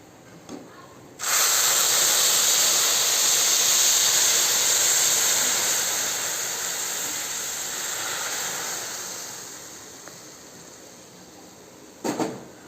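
Hot milk poured into a hot pan while making payasam gives a sudden loud sizzling hiss that slowly fades. A few faint clicks come near the end.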